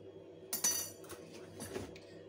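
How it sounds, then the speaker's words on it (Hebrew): Sweet potato sticks being tossed with a seasoning mixture in a bowl give off a few light clinks and scraping knocks, close and fairly quiet, over soft background hum. "ואני מערבב את הכל יחד עד שאני מרגיש שכל המקלות מצופים בתערובת שהכנתי"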